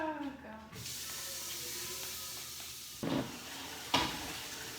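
Tap water runs steadily into a mixing bowl being rinsed out in a home kitchen during bread roll making, a constant hiss with a couple of louder splashes near the end, voices audible briefly at the start.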